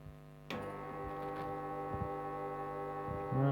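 A Lidl Parkside disc sander runs on its lowest setting, giving a steady, even motor hum with a faint pulsing throb that swells slightly louder near the end.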